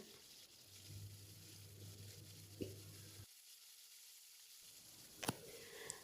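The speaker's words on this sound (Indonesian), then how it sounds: "Pertama saya mau goreng tempenya dulu ya." Pieces of tempeh that were first soaked in salt water fry in hot oil, giving a faint steady sizzle that drops out briefly, with a couple of sharp clinks from a utensil against the pan.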